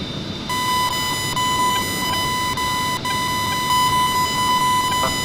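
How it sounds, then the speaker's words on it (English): Repeated electronic cockpit warning beeps in the DCS A-10C Warthog flight simulator during a night mission under missile-launch and engine-failure alerts, steady tones continuing without pause across the clip over a constant noisy background. "Oh my god, everything's beeping."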